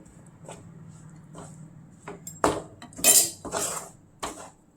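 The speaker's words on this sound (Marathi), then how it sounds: "आता हे व्यवस्थित असं एकजीव करून घ्यायचं" Sesame and jaggery mixture with ghee and a pinch of salt being stirred in a pan off the heat, with soft scraping and several sharp metallic clinks of a spoon against the pan, close up.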